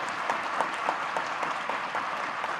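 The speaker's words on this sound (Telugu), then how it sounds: "మీరందరూ గట్టిగా చప్పట్లతో ఆమోదం తెలపండి." A large audience applauding at a political event in Telangana, a dense, steady wash of clapping from many hands that continues evenly throughout.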